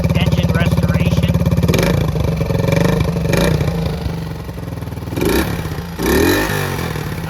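A restored 1971 Honda SL70 small motorcycle engine idles steadily at half choke with a loud, close, even putter and a few brief throttle blips near the end.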